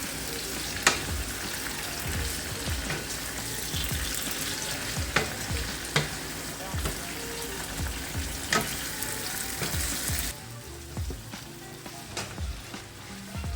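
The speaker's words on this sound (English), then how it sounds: "Stir multiple times for all the ingredients to mix together and let it simmer for a little bit." Ingredients for attiéké poisson sizzle and simmer in a pot while being stirred, with repeated scraping strokes of a utensil over a constant loud bubbling fry; the sizzle drops off sharply near the end.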